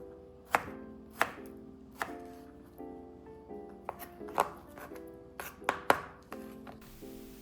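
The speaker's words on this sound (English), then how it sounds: "cut your mango into cubes" A knife chops through mango on a cutting board as the fruit is cut into cubes, with about a dozen sharp, distinct knocks at an irregular, unhurried rhythm. The sound is close and clear, and no one speaks.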